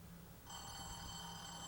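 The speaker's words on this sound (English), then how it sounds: "There's the phone." A telephone bell rings steadily from mid-room, starting abruptly and continuing unbroken over faint low background hum.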